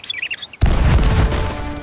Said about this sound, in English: now is the perfect time to use these cannons